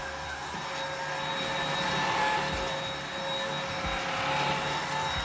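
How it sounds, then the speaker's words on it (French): A Dibea D18 cordless stick vacuum cleaner runs steadily with a high, even motor whine and airflow hiss, holding a constant tone alone throughout. "je force pas sur l'aspirateur, hein, je le pousse et je le ramène simplement pour qu'il puisse travailler correctement"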